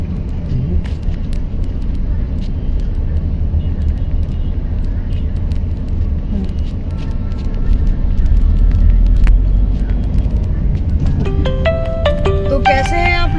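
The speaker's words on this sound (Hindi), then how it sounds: "आज गाड़ी मुझे खुद ही ड्राइव करनी पड़ रही है।" A car is driven along a road in India, its engine and tyre rumble steady and close from inside the cabin, with a brief musical tone near the end.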